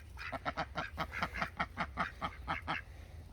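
A flock of eleven ducks, two of them drakes, quacking loudly in a rapid, repeated series of harsh calls close by in a Florida backyard food forest, with no talking.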